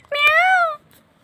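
A child imitates a cat with a single drawn-out, close meow that lasts just under a second before quiet returns.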